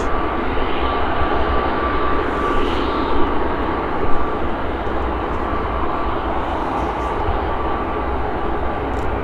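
An Airbus A350 airliner just after pushback at Manchester Airport, a steady close engine drone with a faint tonal whine held at even loudness throughout, no talk.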